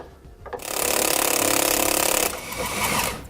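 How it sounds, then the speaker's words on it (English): A 9/16 socket on a ratchet loosens the end link nut of a Roadmaster front anti-sway bar on a 2008 Forest River Berkshire motorhome, giving a loud, steady mechanical buzz of ratcheting for about two seconds, then a quieter rattle. "We'll start by removing our end links. You're going to do that using a 9/16 socket."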